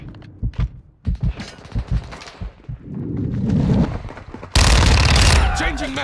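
Bursts of automatic gunfire ring out in Call of Duty, first as short spaced volleys, then building into dense, loud sustained firing with heavy impacts near the end.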